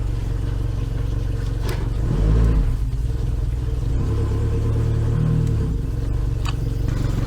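Yamaha 100hp outboard motor running in reverse, a steady low engine rumble with two brief swells in revs, close and loud throughout, no voices.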